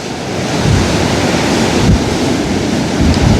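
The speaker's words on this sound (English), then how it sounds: "Yeah, that's the waves." Large sea waves crashing on the shore during sea fishing, a steady loud roar of surf with wind buffeting the microphone and periodic heavier surges.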